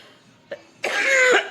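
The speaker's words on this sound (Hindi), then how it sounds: "खांसी जाने का नाम नहीं ले रही बिल्कुल भी" Coughing from a woman with a persistent cough, a faint short throat sound followed by one harsh, close cough burst, heard alone.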